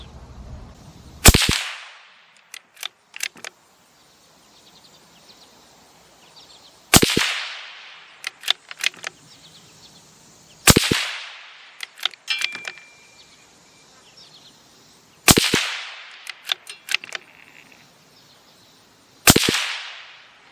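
Five sharp, loud gunshots from a CZ .22 LR rifle firing Norma ECO Speed ammunition, spaced roughly every four to five seconds outdoors, each followed by faint clicks and clinks of the action between shots.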